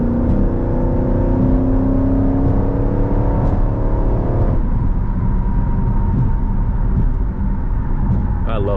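Jeep SRT in sport mode accelerating hard, a loud steady engine roar with rising whine from inside the cabin, pitch climbing then shifting after a gear change midway.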